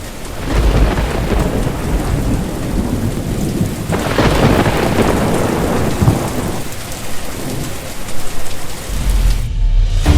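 Heavy monsoon rain pours steadily over north-east Punjab in Pakistan, a dense, loud roar that persists throughout, with deep rolling thunder swelling midway and a fresh rumble near the end.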